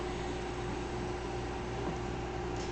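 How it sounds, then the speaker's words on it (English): A steady mechanical hum with broadband hiss runs unchanged throughout, like a dehumidifier droning in the background, with no voices. "that is the sound of a dehumidifier going in the background"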